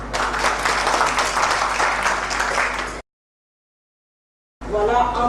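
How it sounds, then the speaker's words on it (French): An audience claps at an evening ceremony: dense, loud applause for about three seconds, then a cut to silence before the clapping returns briefly at the end. "Sous vos applaudissements, une fois de plus, l'engagement volontaire au service du développement."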